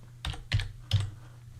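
Three separate keystrokes on a computer keyboard, each a short sharp clack spaced about a third of a second apart, close and clear over a quiet room with no talking.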